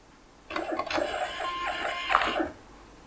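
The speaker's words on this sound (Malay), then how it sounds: "anda klik saja pada button print untuk dia print dekat dalam printer" Thermal printer printing a shipping waybill for an online order, a steady mechanical whirring buzz lasting about two seconds, close and moderately loud, starting and stopping abruptly against quiet room tone.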